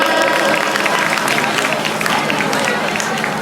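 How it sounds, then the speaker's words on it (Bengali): Audience at a school cultural event breaks into loud, sustained applause, dense clapping from a crowd filling the moment with steady noise throughout. "একটা জোরে হাততালি"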